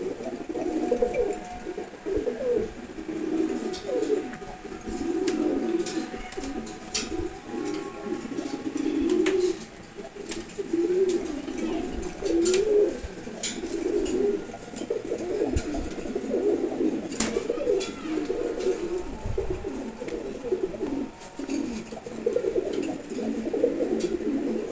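Racer pigeons cooing in a loft, repeated soft throaty coos in overlapping rhythmic bursts, moderately close, with faint background noise and no talk.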